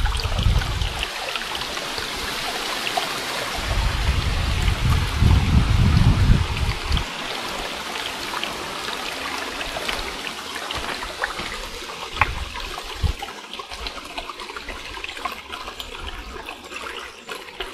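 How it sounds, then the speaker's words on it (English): A stream trickles down a steep slope through autumn woodland on Dartmoor near Chagford, a steady close-by wash of running water with a louder gurgling surge early on and no talking. "I hope you can hear the trickling."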